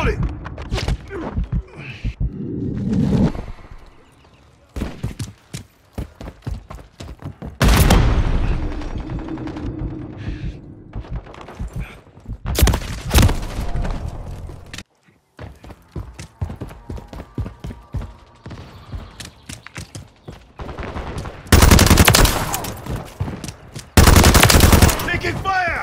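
Gunfire in a Call of Duty team deathmatch: repeated loud bursts of automatic fire and heavy blasts, some near and some farther off, separated by short quieter gaps, with voices mixed into the action.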